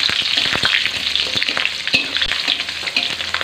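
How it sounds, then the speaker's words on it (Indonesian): Chilies, shallots and garlic hit hot oil in a pan for sambal, a loud continuous sizzle with crackling pops and occasional stirring clinks, close by and without talk. "Masukin aja langsung cabai, bawang merah, bawang putihnya ya."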